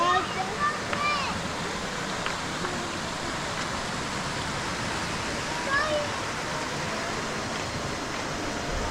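The Kuroyama waterfall in Japan pours with a constant broadband rush of falling water, steady and enveloping, while faint voices surface briefly over it near the start and again midway.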